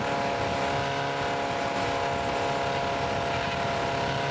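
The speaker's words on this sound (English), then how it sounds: "We brake hard for the hairpin right at turn 7," A race car in a vintage endurance race at Sebring brakes hard for the turn 7 hairpin, its engine note a dense, steady, loud roar that fills the whole clip with no letup.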